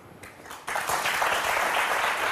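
Studio audience applause swells in quickly and holds steady as dense, loud clapping.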